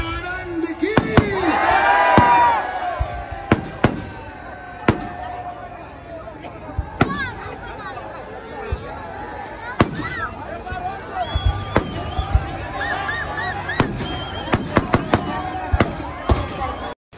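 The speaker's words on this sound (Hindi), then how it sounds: "बहुत ही तगड़ी आतिशबाजी के साथ रावण का दहन हो चुका है" Fireworks burst at a Dussehra Ravan effigy burning in Jaipur, with sharp cracks and booms scattered throughout amid whistling rockets and a loud crowd cheering and talking underneath.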